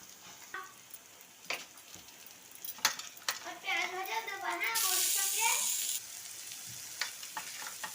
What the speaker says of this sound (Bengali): আমি কিন্তু এইভাবেই ভাজছি, কারণ অল্প তেলে রান্নাটা আমার বেশি পছন্দ।